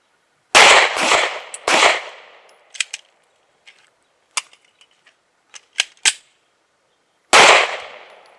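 Sharp, loud gunshots crack out at a shooting range, a quick pair and volley at first, then scattered lighter pops and clanks, and another loud burst near the end.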